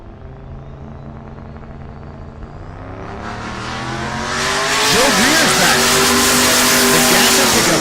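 A drag racing car at Rocky Mountain Race Week 2023 launches down the strip. Its engine roar swells from a steady rumble into a loud, rising, high-pitched scream, with pitch sweeps as it accelerates close by.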